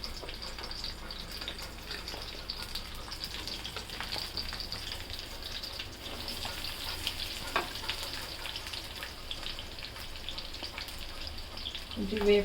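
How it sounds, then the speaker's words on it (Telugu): Onions fry in hot oil with a steady, dense sizzle that carries through the whole stretch, and a voice speaks faintly underneath. "ఫస్ట్ ఉల్లిపాయలు వేస్తున్నాను."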